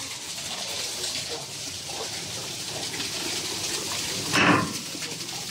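Running water flows steadily in a continuous broad gush, with a brief louder splash partway through, heard close and without talk over it.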